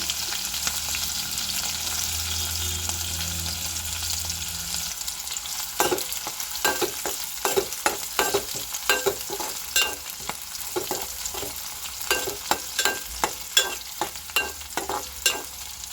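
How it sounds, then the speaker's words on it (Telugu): Onions and green chillies fry in hot oil for chicken fry, a steady sizzle underneath with repeated clicks and scrapes of a spatula stirring the pan growing busier in the second half, no voices. "కొంచెం ఆయిల్ వేసి ఆయిల్ వేడిన తర్వాత పచ్చిమిర్చి ఆనియన్స్ వేసుకొని బాగా ఫ్రై చేసుకోవాలా"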